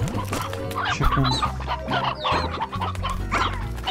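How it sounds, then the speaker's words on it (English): Chicken clucking from the video game Slime Rancher, a busy run of overlapping clucks and squawks repeating close and loud with no talk over it. "Chicken."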